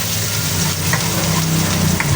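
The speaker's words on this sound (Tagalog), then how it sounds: "dito na rin po tayo maggigisa ng ating sibuyas" Onions sautéing in oil for chicken pochero, giving a loud, continuous close sizzle with faint background noise from a roadside setting.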